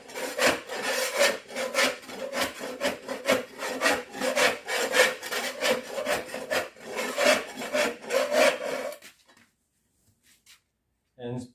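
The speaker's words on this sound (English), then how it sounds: "scraping." Glued carpet underlayment being scraped off a floor, a steady run of close rasping strokes in quick rhythm for several seconds before stopping, followed by near silence.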